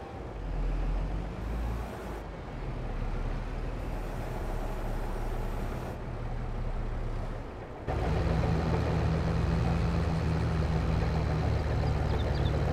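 A John Deere tractor engine drives in Farming Simulator 22 during a corn-for-grain harvest, giving a steady, loud, continuous drone with a low rumble that rises and thickens after a short dip.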